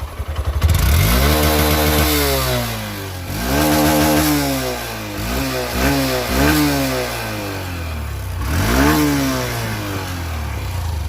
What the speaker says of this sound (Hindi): भाई साउंड इसका मस्त है यार, रेव करने में मज़ा आता है भाई।